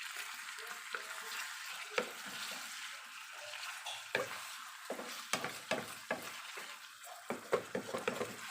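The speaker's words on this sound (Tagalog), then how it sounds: "haluin po muna natin bago natin lagyan ng tubig pang sabaw" Milkfish sinigang with tamarind, cooked Bisaya style, is stirred in a hot pan: a soft, steady sizzle carries under irregular scraping and clinking strokes of the utensil against the pan, which grow busier toward the end.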